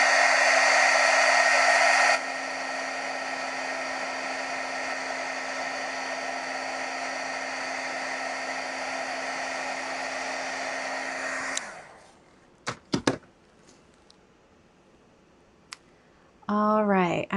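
A hair dryer blows steadily on wet watercolor paint for about eleven seconds, loud and constant, then shuts off, leaving a few clicks and brief handling noises.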